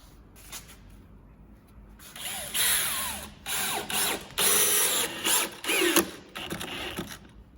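A power drill driving screws into a board while building bookcases and cabinets, several whirring bursts rising and stopping in quick succession, close and loud, with quieter handling between them.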